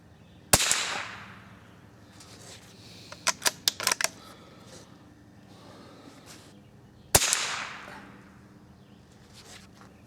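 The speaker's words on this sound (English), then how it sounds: "So I'll have to shoot 6 rounds at this one as well." Two sharp suppressed cracks from CCI subsonic 45-grain .22 LR rounds being fired, one near the start and another about six seconds later, with a quick run of lighter clicks from the rifle's action between them.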